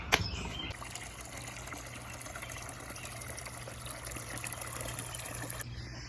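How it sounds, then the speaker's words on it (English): Steady trickling and splashing of water pouring into a bucket, continuous and fairly quiet, with a brief clunk at the start. "Now that the bucket's full of water"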